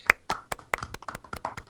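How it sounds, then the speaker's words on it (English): Scattered claps at a tabletop game night session, a handful of sharp, irregular hand slaps close to the microphone, sparse and uneven like a small group clapping briefly. "I think Matt gets a round of applause for that"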